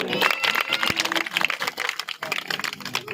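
Audience at a Bhagavat Katha gathering in a village in Yamuna Nagar claps loudly and continuously, a dense rattle of hands close by with some voices mixed in.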